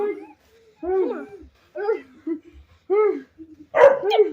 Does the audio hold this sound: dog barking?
yes